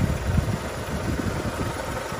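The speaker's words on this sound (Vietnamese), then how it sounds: "Hiện tại em đang nổ máy lên cho các bác nghe đấy ạ" A 2008 seven-seat automatic car with high ground clearance idles close by. The engine gives a low, even, steady rumble with slight pulsing, and no one speaks over it.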